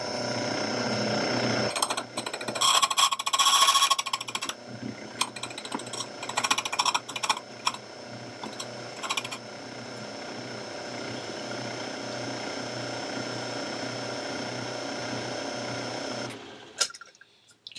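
Locksmith's key cutting machine cutting a key at the number 1 position, a steady whirring motor with rapid buzzing, grinding bursts as the blade bites for several seconds, then continuous running before it winds down abruptly.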